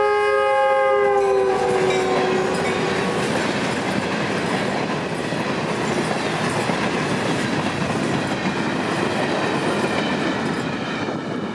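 A Florida East Coast Railway freight train passes close by near the north end of Bayard, opening with a loud horn blast that fades after a few seconds into steady, loud rumbling and wheel clatter that continue to the end.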